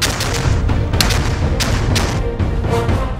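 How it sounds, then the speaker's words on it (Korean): Hand grenades explode during army training at a military training center, producing a loud series of heavy booming blasts that follow one another in an uneven rhythm, close and forceful, with no voices. "대지를 흔드는 엄청난 위력의 수류탄 훈련."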